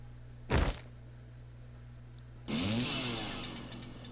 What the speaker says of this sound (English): That chainsaw rip.